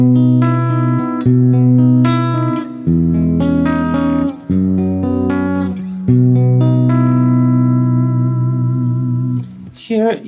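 Guitar playing a song built on airy 11th chords: ringing sustained chords and melody notes, clean and reverberant, with a sudden bright strum near the end and no talking.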